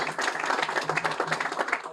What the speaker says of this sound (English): So one more time, a round of applause.